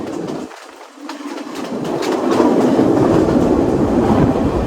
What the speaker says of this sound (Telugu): ఫారినర్స్కి, ఫారిన్ బ్లాగర్స్కి చాలా ఇష్టం ఈ ట్రైన్ రైడ్